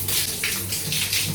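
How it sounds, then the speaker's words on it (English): Water runs steadily while oil is rinsed out of hair during a wash, a close, continuous splashing hiss with gentle surges as the stream moves over the head, with no talking. "the first step is washing off the oil with just water."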